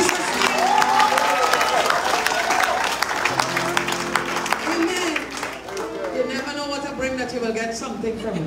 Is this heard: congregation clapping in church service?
yes